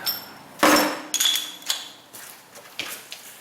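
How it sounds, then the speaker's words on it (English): A chisel is hammered against a steering knuckle to free a ball joint on a Subaru, giving sharp metallic strikes with ringing clinks, a hard first hit followed by several lighter blows, close up. "And we'll get a chisel."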